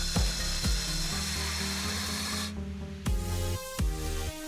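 Diamond core drill boring into hard concrete, a loud steady grinding whine with repeated thumps that cuts out abruptly when the bit jams and the protective clutch and electronics stop the motor, then restarts briefly.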